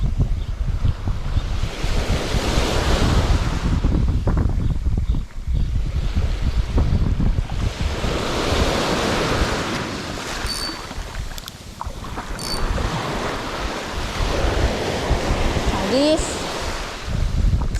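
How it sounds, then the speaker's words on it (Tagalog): Large ocean waves break and wash onto a fishing beach in loud, surging rolls, mixed with heavy wind buffeting the microphone and a brief voice in the background. "Malalaki na paling alon dito."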